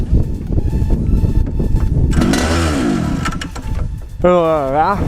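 A go-kart engine fires up and revs, rising harmonic whine climbing in pitch, loud and close, with people talking over it before and during the start.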